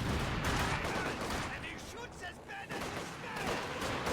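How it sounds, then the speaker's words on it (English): Katyusha rocket barrage in Company of Heroes 2, a dense rolling volley of explosive bursts and crackling impacts that stays loud throughout, with a brief dip midway before the roar swells again. "Another Katusha barrage onto the mid."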